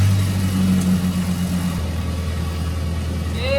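A truck engine cranks and starts up, settling into a steady, close, loud idle with a low mechanical rumble, no voices heard.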